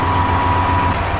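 A Caterpillar diesel engine on heavy equipment idles close by, a loud, steady low rumble with a constant hum and no change across the short stretch, no voices.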